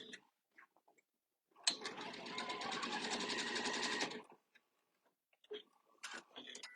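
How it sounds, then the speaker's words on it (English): A sewing machine runs a short test stitch on quilt binding, a steady mechanical whir of about two and a half seconds. Quiet handling sounds come before it, and a few soft clicks and knocks follow. "do a little test stitch on here to make sure that everything is working good"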